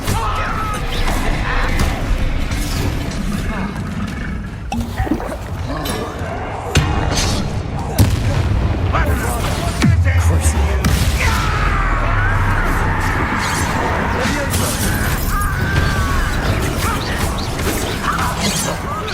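Bombarda explosion spells in a chaotic Hogwarts Legacy battle, with loud crashing, smashing impacts piling over one another amid shouting voices and constant game noise.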